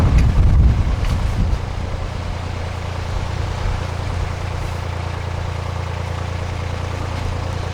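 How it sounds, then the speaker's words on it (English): Gusty wind buffeting a microphone aboard a narrowboat on a canal approaching a lock, a loud rumbling blast at the start easing into steady low roar with a faint engine idle underneath, no talking. "Bit of a wind up at the moment"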